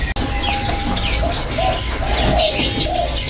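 A green pigeon's soft coos repeat in short phrases against a background of chirps and light chatter from other birds.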